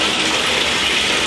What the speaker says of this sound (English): I'm in the middle of a nice cold ice bath